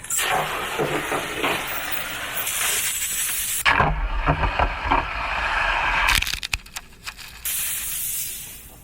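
A compressed-air squirt gun spraying molten metal makes a loud steady hiss and spray with cracking bursts, stopping and restarting in a rough sputter near the end.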